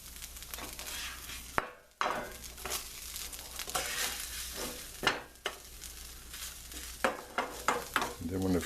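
Corned beef hash sizzling in a frying pan while being turned, a steady hiss broken by scraping and stirring sounds and a few sharper knocks near the end.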